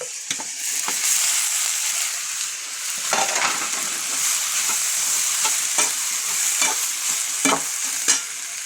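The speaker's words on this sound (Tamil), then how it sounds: "நல்லா வதக்கிக்கிறணும்" Steady sizzling of spinach-type greens being sautéed in a hot pan, with stirring scrapes and occasional louder clatters from a utensil against the pan.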